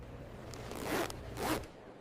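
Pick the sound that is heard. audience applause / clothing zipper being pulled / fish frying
clothing zipper being pulled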